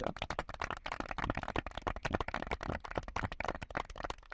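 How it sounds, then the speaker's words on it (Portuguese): A church congregation claps together for Jesus, a dense run of sharp hand claps going on steadily, close and fairly loud, with no voices over it. "Então, aplauda a Jesus."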